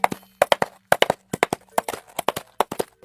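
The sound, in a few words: coconut shells imitating horse hooves, film foley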